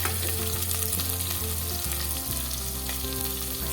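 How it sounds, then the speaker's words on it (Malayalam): Ginger, garlic and onion frying with mustard seeds for a Kerala-style mackerel fish curry, giving a loud, dense, steady sizzle close up with a constant low hum beneath, with no voices. "ഇഞ്ചി, വെളുത്തുള്ളി, സവാള ഇതെല്ലാം നന്നായിട്ട് വഴറ്റണം."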